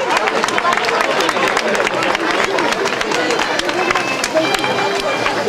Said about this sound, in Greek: Πάμε να δώσουμε ένα θερμό χειροκρότημα στην Βίλτα που μας καλωσορίζει από το νερό.